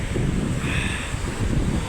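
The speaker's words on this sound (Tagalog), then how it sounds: "kung naririnig nyo yung malakas na ano ng alon" Loud ocean waves surging against a pier at dawn, a steady broadband roar with wind buffeting the microphone throughout, no voices.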